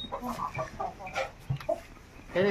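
Village hens cluck in short, close bursts at a rural home with a tiled roof and mud walls, with a louder squawk near the end and a faint voice in the background.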